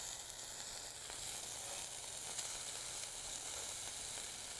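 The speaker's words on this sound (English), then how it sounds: "while that other side sears" Scallops searing in a hot pan give off a steady, even sizzle and hiss that runs unbroken and fairly soft, with no voices over it.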